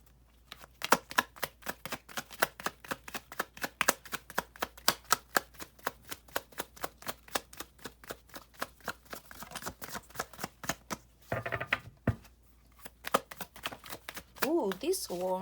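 Tarot cards are shuffled in a steady run of sharp, rapid riffling flicks close by, then a pause with some rustling and a voice starting to speak near the end.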